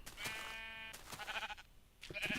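Minecraft sheep bleating in a pen, two or three distinct wavering bleats spaced across a couple of seconds, close and clear with no speech.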